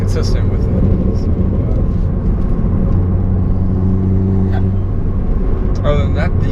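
Dodge Dart driving along, with steady road and engine rumble throughout and a person talking over it inside the cabin.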